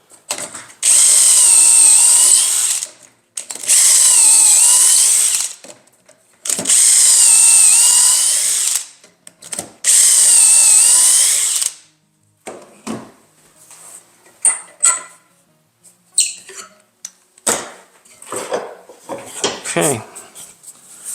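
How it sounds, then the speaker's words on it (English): Power drill boring four dowel holes through a Dowelmax jig into a 3-inch-wide workpiece, four loud sustained bursts with short pauses, followed by clattering handling noises and scattered knocks. "And we're going to drill our holes, 4 holes here."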